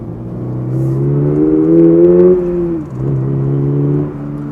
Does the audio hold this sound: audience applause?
no